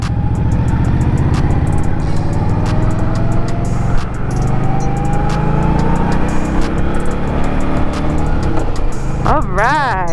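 Engine roar of a 2022 Indian Scout Bobber being ridden at Daytona Bike Week, a steady drone with rising and falling revs and wind rush; people talk over it throughout.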